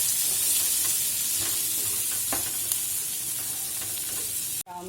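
Omelette mixture stirred and sizzling in a frying pan in a home kitchen, a steady close crackling fry with scraping stir strokes throughout, ending abruptly.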